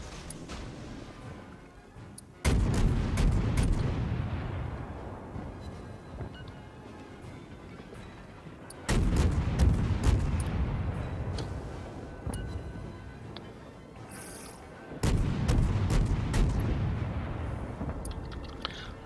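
Cruiser guns firing shells in a World of Warships naval battle: three heavy, booming salvos spaced several seconds apart, each a loud broadband blast that rumbles and slowly decays, with no talk.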